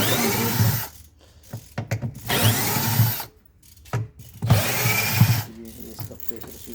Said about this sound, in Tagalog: Basta may automatic ang drill.